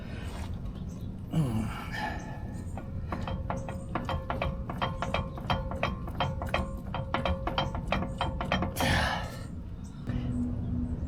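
An axle ring gear turning inside a differential housing on a C-clip axle setup makes a steady run of rapid, close mechanical clicks, like a ratchet, lasting several seconds between quieter handling noises.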